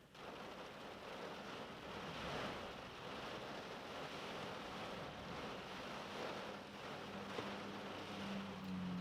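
Heavy rain pours and strong wind gusts against a parked car, a dense, continuous roar heard from inside with steady washing noise and occasional buffeting swells.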